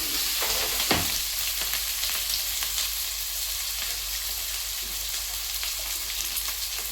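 Onions and green chillies frying in hot oil with dried red chillies, for a cucumber curry. A loud, steady sizzle goes on throughout, with an occasional stir or pop near the start.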